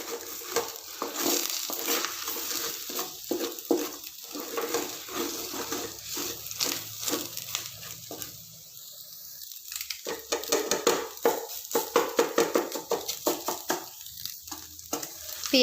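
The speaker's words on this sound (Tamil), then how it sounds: "இப்போ நல்லா இதை கலந்து விட்டுடலாம்." Food fries over a medium flame in a pan with a little oil while being stirred, producing crackling sizzle and repeated scraping strokes, with a brief quieter gap partway through before the stirring picks up again.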